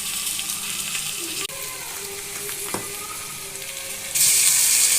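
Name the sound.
potatoes frying in oil with bay leaf and black cumin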